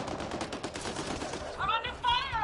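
Gunfire in the video game Mass Effect Andromeda: a rapid, fairly quiet burst of shots in quick succession, followed by short electronic warbling tones near the end.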